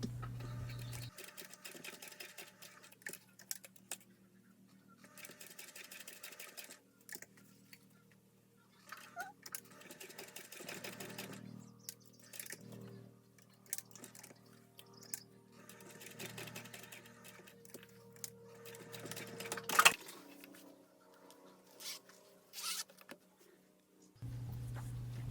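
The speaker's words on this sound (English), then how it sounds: "Top stitch all 4 sides." A sewing machine topstitches all four sides of a fabric tab folded over a zipper end on a bag, running in repeated bursts of rapid stitching separated by short quiet pauses.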